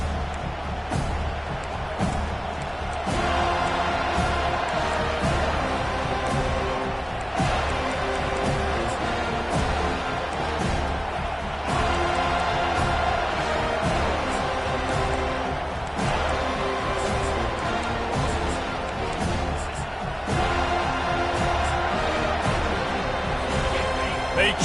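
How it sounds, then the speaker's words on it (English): A packed football stadium crowd at a Florida State Seminoles game roars steadily, a loud continuous wall of cheering with announcers talking over it throughout. "They challenge this crowd to bring the energy, and I'd say they're doing that."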